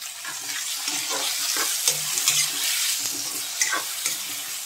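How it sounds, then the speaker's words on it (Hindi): Chopped tomato dropped into hot oil with lightly browned onion and green chili for Indian-style masala pasta, crackling and sizzling up close while a spoon stirs in short scraping bursts. "इसमें हम कटा हुआ टमाटर हम डाल देंगे।"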